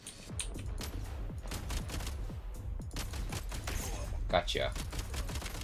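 Rapid bursts of firearm gunfire in a Genshin Impact battle ring out continuously, dense and steady throughout, with a voice speaking briefly over the shots.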